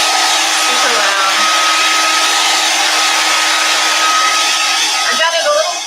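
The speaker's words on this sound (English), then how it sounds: "Got to turn on my hair dryer here for just a few minutes." A hair dryer blows continuously to dry freshly applied IOD paint inlay medium, a loud, steady, close-up whoosh with a faint whine that runs through the whole stretch.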